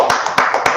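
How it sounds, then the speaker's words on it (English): A class of students claps together indoors, a short burst of several loud, irregular hand claps overlapping in quick succession. "Let's clap it up for that."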